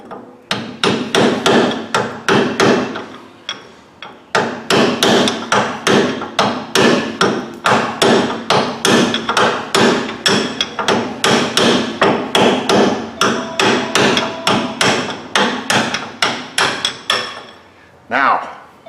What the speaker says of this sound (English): an 8-pound hammer gets stuff done